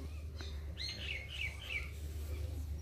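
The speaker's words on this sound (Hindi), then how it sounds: "चिड़िया चहका रही है" Small birds chirp and tweet in a series of short bright calls, fairly close and clear over a steady low background hum, during a home puja with no talking.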